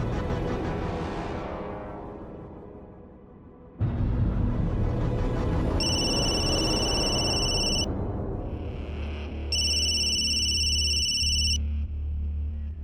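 An electronic phone ring sounds twice, each ring a couple of seconds long, over a loud rumbling background.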